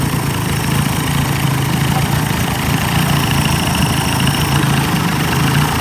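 A 1990s Evinrude 30 hp outboard motor, recently troubled by stalling, rough idle and a fuel leak at the primer, idles at close range with a steady low rumble and slight unevenness, no voices.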